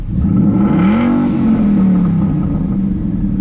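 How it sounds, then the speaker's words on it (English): A 2013 Ford Mustang Boss 302 V8 engine revs once up to a moderate pitch and eases back down, a close, loud, throaty rumble with no talk. "watch the RPM. I'm not even revving it that high"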